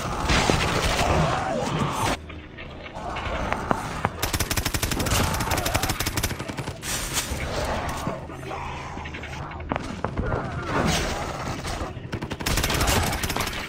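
Rapid gunfire from the zombie mode Shi No Numa in a Call of Duty-style game rattles in dense, loud bursts, nearly continuous with brief pauses, and a voice talks at times over the shooting.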